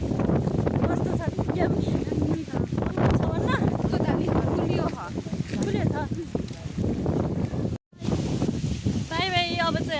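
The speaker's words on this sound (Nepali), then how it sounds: "यस्तो हावा चलेछ फेरि सबैको कपाल उडेछ" Strong gusts of wind buffet the microphone outdoors near a river, rumbling loudly and almost without pause beneath people talking, with a short dropout near the end.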